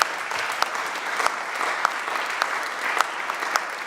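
Audience applause, a steady wash of many hands clapping with sharper individual claps popping out, moderately loud and continuous throughout.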